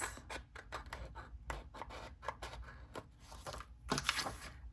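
Scissors trimming paper while setting up a planner, a string of quiet, close snips and rustles at an uneven pace with no talking over them.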